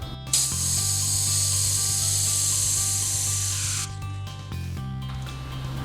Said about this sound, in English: I'm then going to spray the product into this plastic cup here